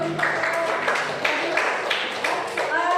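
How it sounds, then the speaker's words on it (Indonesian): Students in a classroom clap together briefly in a short burst of applause, with voices mixed in among the claps. "kasih tepuk tangan dulu."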